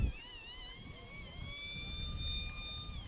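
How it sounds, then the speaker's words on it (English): A siren wails at the Santa Maria Elks Rodeo Parade, a steady, rising and falling electronic tone held for several seconds at moderate distance over outdoor crowd noise. "You hear that siren."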